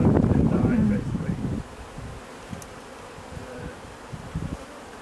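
Honeybees drone around an urban beehive, a louder buzzing at first that fades to a faint hum among wind and rustling.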